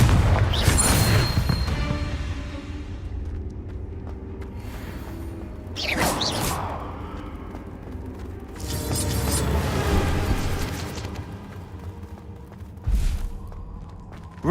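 Confringo blasting-spell explosions go off in the Hogwarts Legacy video game: several booming blasts over about fifteen seconds, with heavy thuds and crackling tails over mechanical game ambience.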